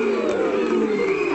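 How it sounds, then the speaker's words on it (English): A crowd at a live music event booing loudly, a dense sustained low roar of many voices lasting about a second and a half. "Why are they all booing?"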